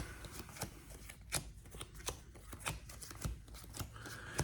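Magic: The Gathering card deck being shuffled at close range, a quick run of crisp riffling snaps and soft slaps repeating irregularly over a quiet background.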